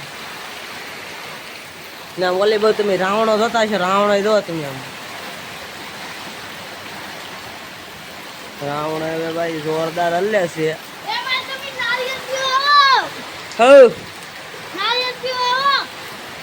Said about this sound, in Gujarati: ફૂલ વરસાદ આવે છે